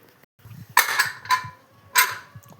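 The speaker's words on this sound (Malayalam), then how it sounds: "ഇനി നമുക്ക് നമ്മുടെ കുക്കർ മൂടാം." A pressure cooker lid being closed, heard as three bright metallic clanks close by, with soft knocks and handling between them and no talking.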